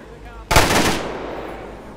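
A single sharp burst of Arma 3 gunfire erupts loud and close after a quiet moment, then rings out in a fading echoing tail.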